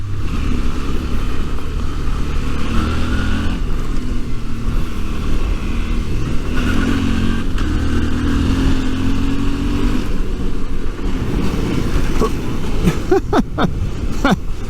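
A Suzuki V-Strom 650 adventure motorcycle ridden off-road, its engine droning loud and steady under heavy wind rush, with sharper knocks and bumps near the end.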